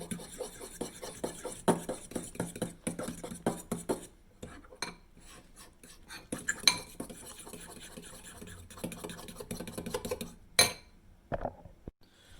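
A fork beats egg and grated cheese sauce for spaghetti carbonara in a bowl, a close, busy run of rapid metallic clinks and scrapes with brief pauses and a few louder taps near the end.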